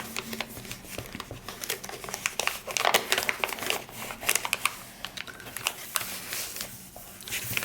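A sticker being peeled and pressed into a journal makes close, continuous crinkling and tapping rustles with small sharp clicks throughout, no voices.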